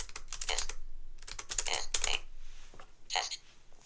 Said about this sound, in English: if I make a new line and I type something else